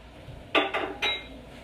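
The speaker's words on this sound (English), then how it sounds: "so into the pot they go." Rinsed canned black beans tip into a pot for a Mexican tater tot casserole with a few quick wet slides and clinks against the metal, heard close and alone.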